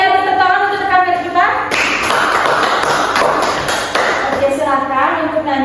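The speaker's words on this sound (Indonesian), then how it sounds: "Tepuk tangan untuk rekan kita" Clapping from pupils in a primary school classroom during a teaching practice session, a few seconds of scattered claps between stretches of voices, with speech before and after.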